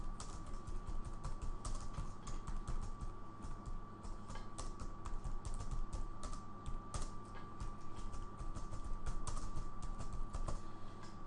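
Keys clatter on a computer keyboard as a name is typed in, quick irregular clicks in bursts over a low steady background hum, fairly quiet and close.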